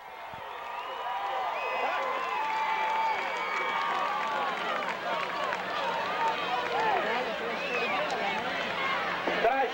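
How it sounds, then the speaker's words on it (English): A lively crowd roars and cheers steadily throughout at a night high school football game between Water Valley and Bruce in 1990, a dense wash of voices that stays loud and sustained. "This crowd is alive."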